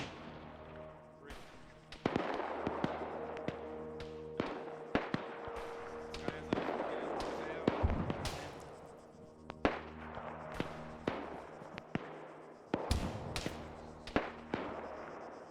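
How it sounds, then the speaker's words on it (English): Grenades go off in a multiplayer shooter video game, firing a rapid, irregular barrage of sharp bangs and cracks, some close and loud, others further off, layered over a steady low game hum. "Why are they throwing grenades over here, goobers?"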